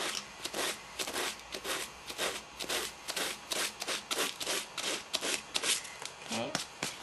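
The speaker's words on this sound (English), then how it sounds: "I'm going to sand here, but I'm not going to sand on the other side." Sandpaper rubs back and forth on the end of a homemade DC motor's wire coil, a steady rhythm of short raspy strokes repeated about a dozen times, close and fairly quiet.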